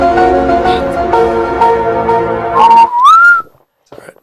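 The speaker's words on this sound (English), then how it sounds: "I'll just start whistling." A person whistles a wavering melody over a low background hum, ending on a rising sustained note before falling silent.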